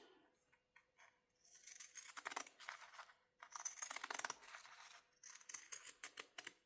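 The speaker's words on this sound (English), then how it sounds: "I'm just going to take my pinking shears." Pinking shears trim the seam allowance on a Pebble Sling Bag, close crisp snipping and crunching cuts in repeated bursts separated by brief pauses, quiet overall.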